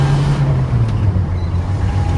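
A 1973 Toyota Land Cruiser FJ40 drives in third gear, its engine giving a close, loud, steady low drone with a slight shift in pitch partway through, no voices over it.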